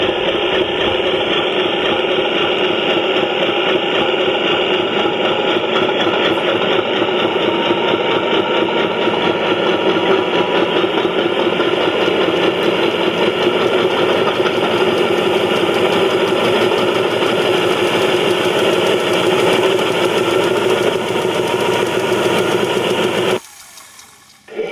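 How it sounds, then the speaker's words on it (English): A JLTRT Class 50 model locomotive's motor whirs steadily as its wheels spin with the front lifted, a loud continuous mechanical drone that holds even for over twenty seconds, then stops abruptly near the end. "if I lift the front up, then I should be able to get the wheels spinning as I can increase the speed"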